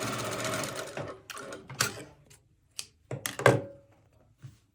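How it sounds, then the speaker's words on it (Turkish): Sewing machine stitching fabric close by, starting with a steady buzzing run and then breaking into short whirring bursts separated by pauses and thunks. "Dikiyoruz."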